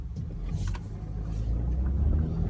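A car drives along with a low, steady engine and road rumble from inside the cabin, constant and fairly quiet, with no one talking.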